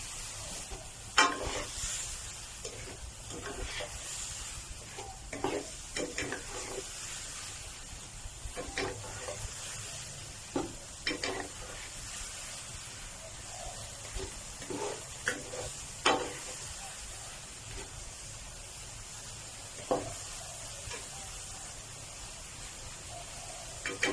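Fresh shiitake mushrooms stir-frying in a pan for vegetarian fried noodles, a steady sizzle with repeated scraping and tapping of a utensil against the pan, close and moderately loud, with no talking.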